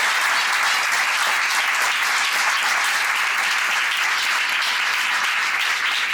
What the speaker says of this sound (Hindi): जोरदार ताली परमेश्वर को महिमा दे